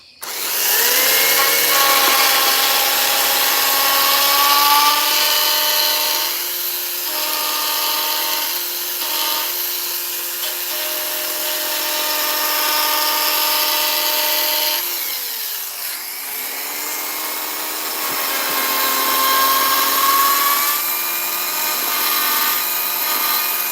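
A gas-powered chainsaw carves a wooden parrot, its engine droning loud and continuous, the pitch rising and falling as it bites into the wood and eases off.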